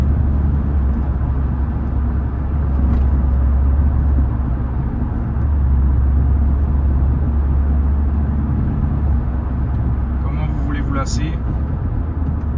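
A BMW M140i moving through chaotic Ajaccio city traffic, a steady low engine and road rumble heard from inside the car, with other vehicles nearby, a brief sharp noise near the end, and talk over it.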